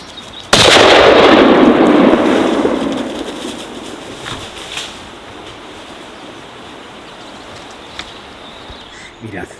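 A single sharp report from a Blaser K95 Stutzen hunting rifle fired outdoors on a hunt cracks out loud and close. Its echo rolls away over several seconds into quiet ambience, with faint insect sounds afterward.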